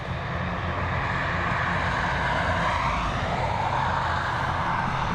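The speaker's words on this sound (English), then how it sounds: "The next departure, this ATR 72-600 series aircraft." An ATR 72-600 turboprop departing Dublin Airport produces a constant broad engine roar with a slowly sweeping propeller tone, sustained and fairly loud, with no talking.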